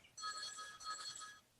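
A phone connected to a computer rings, a faint electronic ringtone of two short warbling bursts with a brief gap between them, sounding alone.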